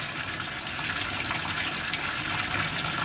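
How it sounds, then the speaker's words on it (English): Bell siphon draining water out of an aquaponics grow bed, a steady loud gushing and splashing rush of water, continuous and close. "that's draining all the water from that bed"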